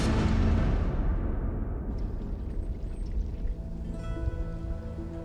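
A dense, steady patter of cold spring rain falls in a broad hiss, loud at first and easing slightly, with no voices.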